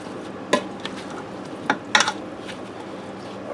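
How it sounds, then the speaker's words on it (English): Ham and potato au gratin gets stirred in a Ninja Foodi pressure cooker, with a few soft scraping clinks of a utensil against the pot and a faint background hiss. "I'm going to give that one more stir to get everything all mixed together in here"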